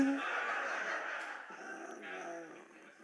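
A dog in a television commercial gives short whimpers and yips over a busy, close mix of ad audio that runs for about three seconds.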